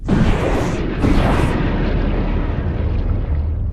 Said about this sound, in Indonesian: Sepuluh detik menuju peluncuran misil.